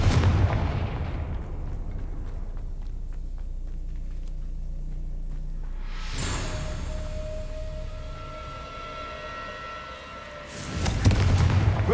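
The fiery Confringo spell explodes in the video game Hogwarts Legacy. Heavy booming blasts and a deep rumble hit at the start, a sharp burst lands near the middle, and another loud explosion comes near the end, with lower rumbling in between.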